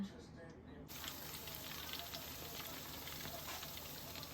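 Batter-coated snakehead fish fries in hot oil with a steady, soft crackling sizzle that holds evenly throughout, following a short quieter moment at the start.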